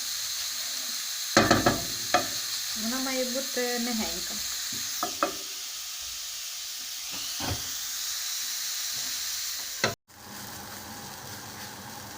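Vegetables stewing over low heat in a covered pan with carrots, a steady soft sizzle and hiss with occasional stirring clatter, while someone speaks briefly; a clunk near the end.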